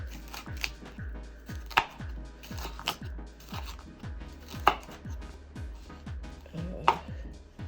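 Peppers being diced into small squares on a cutting board, a fast, even run of knife chops with a few sharper, louder knocks, close up and with no talk.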